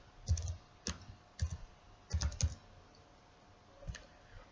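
Close, crisp clicking of keys on a computer keyboard comes in short bursts of a few keystrokes separated by brief pauses, with no one talking.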